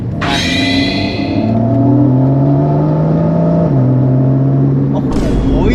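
A Porsche engine revs and pulls under way, its tone climbing in a steady whine, dipping briefly and then rising again, loud and close, with someone talking over it.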